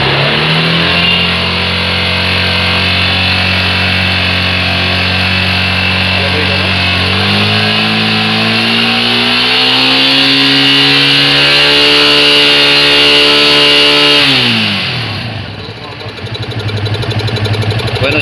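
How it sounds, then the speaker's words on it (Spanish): A Yamaha FZ 250 fuel-injected motorcycle engine revs up to about 5000 rpm, its loud, close, buzzing drone rising in pitch in steps, holding high, then dropping sharply back toward idle. "vamos a acelerarla a unas 5000"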